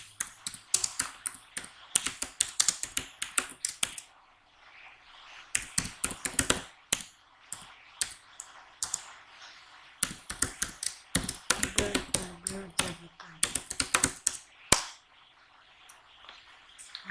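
Fast bursts of computer keyboard clicks as a Laravel PHP artisan migration command is typed, with rapid key taps in clusters separated by short pauses, fairly close and with no talking.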